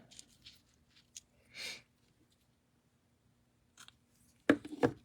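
Scissors trim a paper bow for a handmade card: a few quiet, scattered snips in a hushed room, then a louder cluster of cutting and paper rustle at the end.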